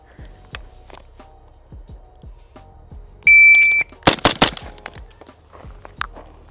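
Gunfire during a trigger timing test comparing single-stage and two-stage triggers: a sharp electronic beep followed by a quick burst of several loud, close shots with ringing decay, then a lone later report.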